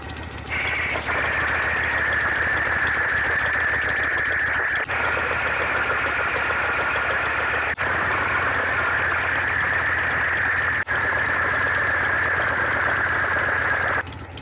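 A Harley-Davidson Shovelhead motorcycle engine idles steadily after a couple of minutes of warm-up. The sound is close and continuous for the whole stretch, with a rough mechanical chatter that fits a noisy lifter.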